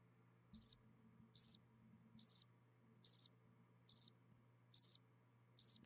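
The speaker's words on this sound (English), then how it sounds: "You get crickets." Crickets chirp in seven evenly spaced bursts, a steady rhythmic trill over a quiet low background hum.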